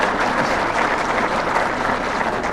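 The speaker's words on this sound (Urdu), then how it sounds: "اب بتائیں کہ آپ کی تالی اس معاملے میں ٹھنڈی ہے" An audience breaks into applause, a dense, steady wash of clapping that holds at an even level from start to finish with no voices standing out.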